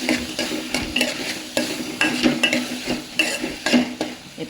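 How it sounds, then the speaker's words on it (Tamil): Tomatoes and brinjal sauté in a pan under a constant sizzle, while a spoon scrapes and clinks against the metal in an irregular stirring rhythm, close and fairly loud. "தக்காளி கூடவே கத்திரிக்காவும் வதங்கிடுறோம்."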